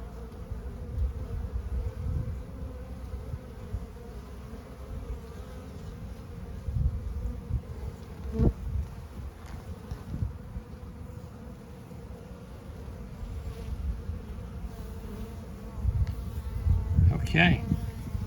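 Honey bees buzz around an open, weakened hive during an inspection, a steady close droning hum throughout, with occasional louder passes of individual bees near the end.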